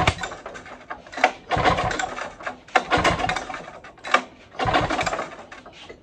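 A Ski-Doo-style two-stroke snowmobile engine is cranked over with the throttle held open for a compression test, giving several loud bursts of rhythmic chugging separated by short pauses, with no talking.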